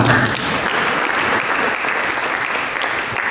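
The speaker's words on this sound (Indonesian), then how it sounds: "Berikan tepuk tangan." A church congregation applauding during a sermon, a dense, even wash of many hands clapping at once, fairly loud and steady throughout, with no speech over it.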